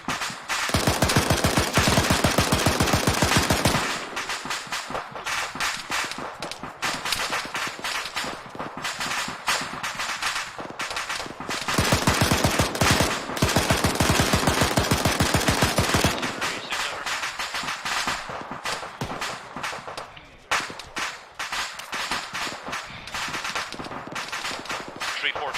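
Heavy automatic gunfire in the video game Arma 3 during a platoon training session, long loud bursts of rapid shots broken by quieter stretches of scattered fire across the whole span.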